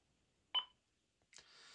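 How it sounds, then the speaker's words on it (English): A Thunderpole T-X handheld radio with a wireless microphone gives a short sharp beep at the end of a Vox transmission, followed by a second brief electronic tone and a soft hiss. "it is beeped and it has been transmitted"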